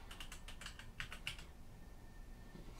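Typing on a computer keyboard hooked up to a Samsung M8 4K smart monitor, a quick run of close, crisp key clicks with a few sharper taps, then a quieter tail.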